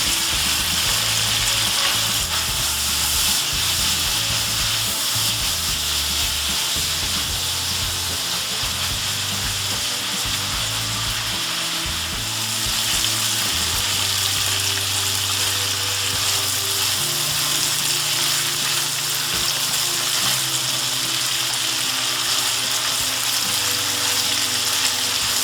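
Flat iron steak stir-fries in a hot pan, a loud, steady sizzle running throughout with intermittent scraping and clattering as the meat is stirred around, no voices.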